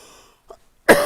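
A person coughs once, a sudden loud, harsh burst near the end that follows near silence and a faint catch of breath.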